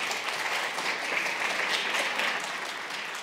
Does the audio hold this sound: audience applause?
yes